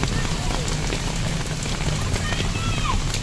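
Heavy monsoon-style rain pours steadily in a street, a dense hiss of drops on surfaces, close and loud, while someone talks over it.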